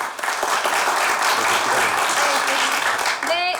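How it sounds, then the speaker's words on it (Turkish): Applause rises from an audience after a dance show, loud sustained clapping filling the whole stretch, with a brief whistle-like sound at the very end. "Bu harika şovu için Halise ve dansçılara kocaman bir alkış rica edebilir miyim?"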